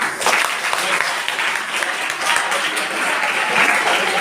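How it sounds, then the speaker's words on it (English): A crowd claps steadily in sustained applause, loud and close, for several seconds. "Big round of applause to her."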